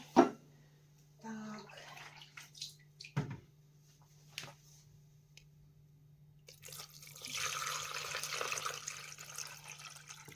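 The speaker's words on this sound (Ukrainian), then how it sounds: "баночки всі вставляємо у скороварку чашу і заливаємо водою до половини" Water is poured into a pressure cooker bowl holding glass jars for a pork stew, heard as a quiet splashing, trickling stream after some scattered clinks and knocks.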